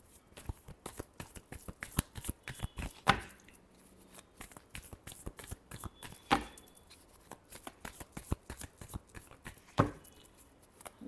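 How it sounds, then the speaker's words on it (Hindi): Tarot cards being shuffled for a Libra reading, a dense run of quick papery riffles and slaps with a few sharper card snaps, steady and close, with no talking. "Last shuffle."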